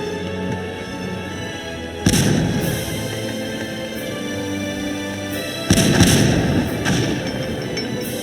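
Heavy artillery blasts in the strategy game Cossacks 2, Poland against Russia, with two big booming impacts about three seconds apart over a constant battlefield din of distant gunfire and crackle.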